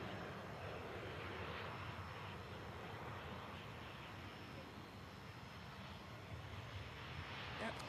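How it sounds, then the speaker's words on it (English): An EasyJet airliner arriving from Faro touches down at Manchester Airport, a steady broad roar of jet engines and rushing air holding at fairly loud level throughout with no pause. "EasyJet just touching down, coming in from Faro, down in the south coast of Portugal."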